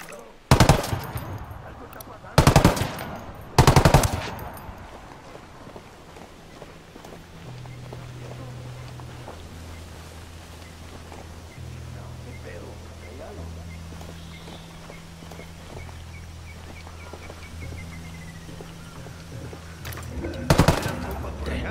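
Ghost Recon Wildlands combat: three sharp, loud bursts of automatic gunfire crack in quick succession at the start, then a long quiet stretch with a low hum, and one more burst near the end.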